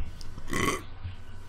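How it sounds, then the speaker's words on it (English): A single loud burp erupts at the middle of a quiet stretch during a Hearthstone gaming session, short and throaty, with faint background sound before and after. "That's morning burps."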